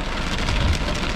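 Heavy rain during a thunderstorm near a highway, a steady broadband hiss of downpour with a brief low rumble in the middle, no voices.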